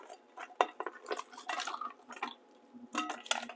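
Pieces of king crab being dropped into a pot of chicken and sausage gumbo, a string of close clanks and clatters against the pot with wet splashes, in uneven bursts.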